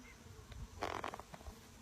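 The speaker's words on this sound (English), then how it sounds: "There are a few bees up here" Honey bees buzzing inside the top box of a hive holding honey frames, a soft steady hum with a denser burst of buzzing in the middle, fairly close and not loud.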